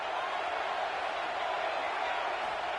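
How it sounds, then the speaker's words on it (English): A crowd roars at a college football game, heard as a continuous broad wash of stadium noise at a steady moderate level. "Here comes the crowd noise, trying to help this defense out."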